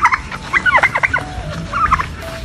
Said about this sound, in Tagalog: Tapos halos mga turkeys and ducks na lang yun nandito.